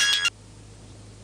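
A telephone rings in a home with a loud, short electronic trill of rapid pulses that lasts a fraction of a second, then cuts to a quiet background hum.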